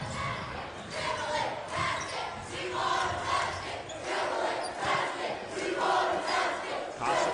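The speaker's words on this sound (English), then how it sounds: "Crowd very active" Crowd at a high school basketball game cheering loudly in a gym, a continuous roar that swells and dips in waves, with shouts rising above the mass of voices.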